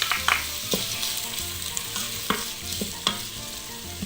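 Oil sizzles steadily as onions fry in an electric pressure cooker, with a few sharp clicks and stirring scrapes of a utensil in the pan, close by.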